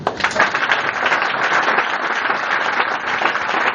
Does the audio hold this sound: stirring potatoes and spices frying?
no